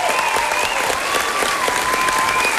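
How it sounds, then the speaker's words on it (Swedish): Audience applause and cheering at the 1995 Sikta Mot Stjärnorna stage show final, dense steady clapping from a large crowd filling the hall continuously, with faint voices mixed in. "Motta folkets jubel."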